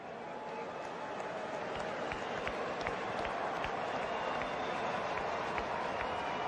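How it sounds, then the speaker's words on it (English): A large stadium crowd applauds after a New Zealand versus England rugby test match, a dense, steady wash of distant clapping and crowd roar that holds throughout. "A round of applause for both the All Blacks and England."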